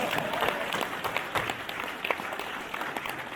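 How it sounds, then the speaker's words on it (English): A crowd at a LEGO keynote talk breaks into a round of applause, even many-handed clapping that fills the room for a few seconds. "Everybody give Amber a round of applause."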